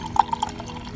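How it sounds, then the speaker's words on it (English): Trader Joe's ginger beer trickles into a glass in a home kitchen, with a few quick splashy glugs and drips near the start, then a softer steady flow under faint background hiss. "I had to pour some of my Trader Joe's ginger beer while I was waiting"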